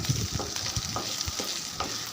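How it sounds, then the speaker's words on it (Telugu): Okra pieces frying in oil, with a busy close sizzle broken by repeated thumps and scrapes of stirring, about one every half second. "బెండకాయ ముక్కలు బాగా వేగనివ్వాలండి."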